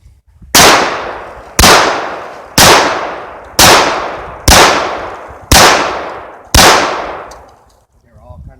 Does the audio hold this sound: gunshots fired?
yes